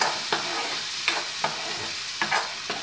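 Ivy gourd (kovakkai) stir-fries in a pan: a quiet, soft sizzle broken by about six sharp spatula scrapes at uneven intervals, with no voices.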